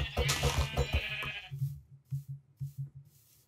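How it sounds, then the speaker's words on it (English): Sheep bleating in the Minecraft video game, a quick cluster of game sounds followed by a series of short, repeated bleats at a steady pace, fairly close. "Wow, there's a lot of sheep."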